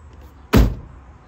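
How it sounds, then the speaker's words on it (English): A Cadillac car door swings shut with one solid, heavy thud, close and loud against quiet surroundings. "And just listen to the sound of this door closing."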